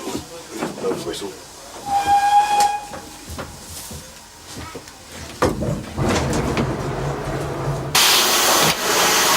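Steam locomotive whistle sounded by pulling the whistle chain, a short pitched blast amid clanks and movement, followed by a loud rush of hissing steam, with some talk nearby.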